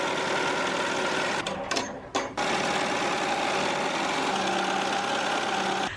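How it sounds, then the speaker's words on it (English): Summit embroidery machine stitching a varsity jacket panel, a loud, steady, rapid mechanical whir and needle chatter running continuously, with brief hitches near the middle before it resumes at full pace. "now I'm gonna put this back on the Summit embroidery machine"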